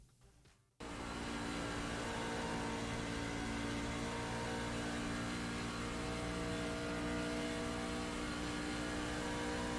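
A race car in iRacing on Road America runs flat out at full throttle, its engine a loud, steady, unbroken roar that holds for the whole stretch after a brief quieter start.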